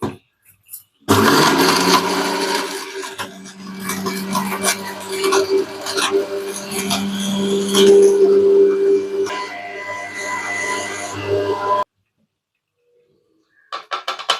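A mixer grinder whirs steadily for about ten seconds while grinding turmeric for a fish curry, then cuts off abruptly, leaving quiet.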